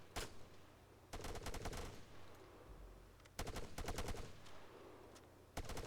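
Player gunfire in the Arma 3 war game: repeated bursts of rapid automatic shots in several clusters, loud and close, with no talking.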